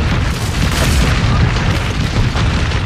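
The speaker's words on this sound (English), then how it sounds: "Airstrike." An airstrike detonates in a battle royale shooter during a final-circle fight, a loud, close, sustained rumbling boom that fills about three seconds with heavy low-end roar.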